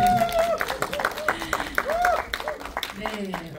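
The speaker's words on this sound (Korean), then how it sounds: "큰 박수 부탁드립니다." Audience applause at a cinema premiere screening event at Lotte Cinema World Tower, scattered clapping mixed with crowd noise and overlapping voices, fairly close and uneven.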